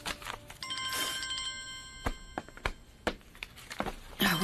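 A mobile phone rings indoors: a bright electronic ringtone sounds for about two seconds, then gives way to a few sharp knocks and light handling noises nearby.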